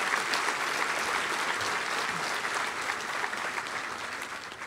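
A law enforcement awards ceremony crowd gives the nominees sustained, even applause, a dense and fairly distant wash of many hands that continues without a break.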